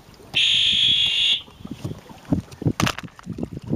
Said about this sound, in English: it's time to hit the horn